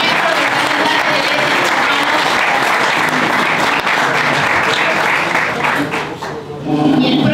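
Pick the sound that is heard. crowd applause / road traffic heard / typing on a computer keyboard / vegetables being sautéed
crowd applause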